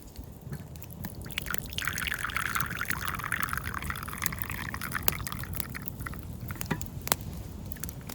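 Pine needle tea pours through the small strainer holes of a camping pot outdoors in a forest, a steady close trickle of liquid that runs for several seconds with faint clinks.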